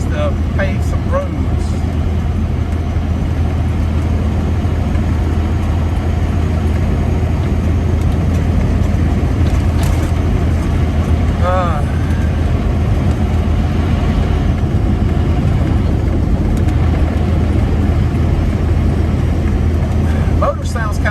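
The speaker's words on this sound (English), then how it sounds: "Motor sounds kind of weird. I think it's because it doesn't have any strain put on it." A Freightliner Classic XL truck engine runs steadily with no load, a loud constant drone that fills the whole stretch, with road and cab noise mixed in.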